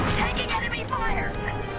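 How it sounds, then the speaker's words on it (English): Enemy fire smashes into a starfighter in Star Wars Squadrons. A sharp, crashing impact rings out with a loud cockpit rumble underneath, and a voice speaks over it. "Taking enemy fire!"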